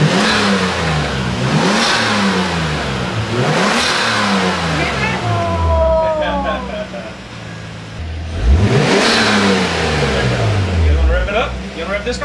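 A turbocharged car engine revs up sharply several times, each rise followed by a falling whine, close and loud with brief pauses between bursts.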